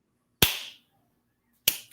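Two loud, crisp hand claps spaced more than a second apart in a slow, deliberate rhythm, each ringing out alone against near silence.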